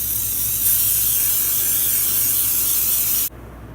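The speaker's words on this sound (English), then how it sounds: "I'm gonna show you guys how much I spray this pan." Cooking spray hisses steadily onto a glass baking pan for about three seconds, close and loud, then cuts off abruptly.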